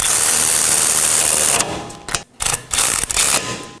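A power tool whirs loudly as it snugs down two 18mm caliper bracket bolts on the rear knuckle of a 2018-2024 Chevrolet Equinox, first in one sustained burst, then in several short stuttering pulses.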